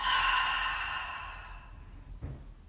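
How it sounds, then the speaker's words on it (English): A slow, deep breath is exhaled out through the mouth in a calm grounding exercise, a long soft airy rush that fades out, followed by a brief faint breath sound. "Take a deep breath in through your nose. Exhale it out your mouth."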